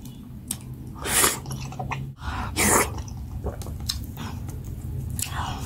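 Close, wet chewing and mouth smacking during a meal of spicy Nigerian pepper soup with fufu, steady and squishy with a few louder bursts.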